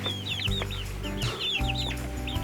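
Several chickens cluck and squawk nearby in a burst of quick, choppy calls, loud and close, over a low rumbling background with no talk.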